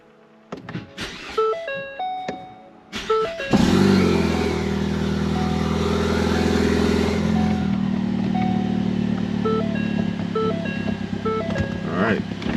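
A Ford Focus ST engine cranks and catches, then idles loudly and steadily, with engine-fault warning chimes beeping in the background.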